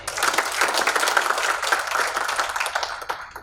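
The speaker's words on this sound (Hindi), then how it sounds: "जोरदार एक बार तालियां बजा दीजिए।" Dense, steady applause from an audience at a provincial community meeting in Rajasthan, many hands clapping continuously and fairly loud for a few seconds, tapering slightly at the end.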